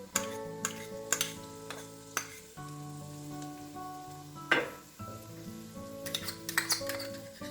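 Minced garlic, two tablespoons, hits a hot soup pot for Thai chicken noodle soup and sizzles steadily, with scattered clinks and stirring taps over a continuous frying hiss; no talking.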